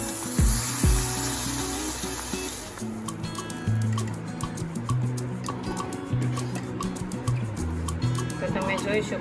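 Hot tempering poured into boiling Gujarati dal, giving a sudden loud splash and burst of sizzling that settles into steady bubbling, with background music running throughout.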